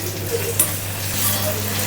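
Onion, ginger and garlic sizzle steadily in a hot pan as tomato goes in, a close, continuous crackling fry with a few soft clinks of a utensil.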